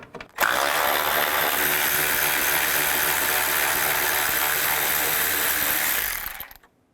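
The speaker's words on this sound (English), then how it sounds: "Take this bolt out, use a 10mm socket." A ratchet with a 10mm socket removes a bolt on a 2000-13 GMC Yukon during transmission oil cooler replacement, giving a loud, close, continuous buzzing rattle that lasts about six seconds before stopping.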